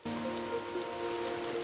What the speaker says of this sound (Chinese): 这好像是我们第二次一起淋雨了。